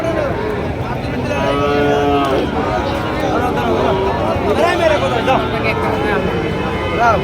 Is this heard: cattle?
yes